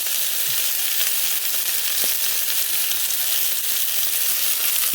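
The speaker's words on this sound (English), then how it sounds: "I have seasoned the bottom part that's on the pan searing" Prime rib searing in a hot pan, a dense continuous frying sizzle held at an even level for the whole span, close up with faint stirring crackle and no speech.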